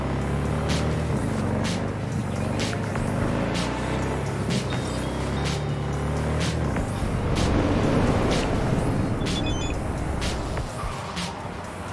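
Car weaving through traffic in the Cyberpunk 2077 video game, a steady, loud engine drone with rushing road noise and sharp clicking ticks throughout, no talk.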